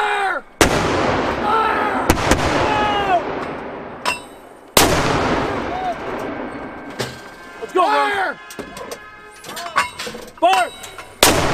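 Weapons firing in a multi-weapon live-fire combat exercise: loud, sharp blasts and booming reports with ringing echoes, spaced irregularly and then bunching into quicker shots, while people shout commands between them.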